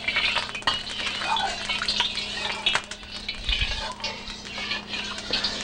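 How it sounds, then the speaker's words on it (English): Peanut oil being stirred around a very hot wok, with steady scraping and sizzling, occasional utensil clinks against the metal, and a low hum underneath; nobody speaks. "Just stir the oil around the sides of the wok so everything doesn't get stuck on it"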